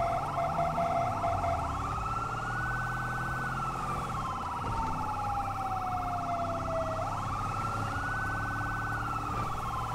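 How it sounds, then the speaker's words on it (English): A police car's priority siren wails in the video game GTA 5, a loud, continuous rising and falling tone with engine noise beneath it and faint voices in the background. "they got the priority siren going and the whale at the same time."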